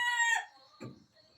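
A rooster lets out a short crow followed by a low cluck, brief and fairly close, with quiet surroundings.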